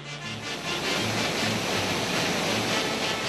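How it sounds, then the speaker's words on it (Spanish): Waterfall fed by Piquecocha lagoon in the Nor Yauyos Cochas reserve of the Peruvian Andes, a continuous broadband roar of falling water, steady and full with no voices. "el sonido del agua que golpea al caer nos llama la atención. Se trata de la caída que proviene de la laguna de Piquecocha"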